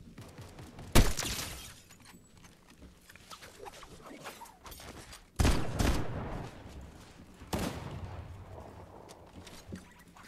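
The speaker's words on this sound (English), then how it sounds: "I'm gonna test out a sniper and shotgun only" Sniper rifle and shotgun firing in a competitive shooter game, three loud separate shots spread across the stretch, each a sharp crack with a short decay, over low background game ambience.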